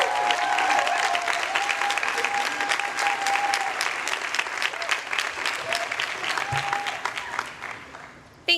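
An audience at Harvard's 2015 commencement gives sustained applause for Ivy Orator Taylor K. Phillips, dense clapping that holds steady then thins out toward the end.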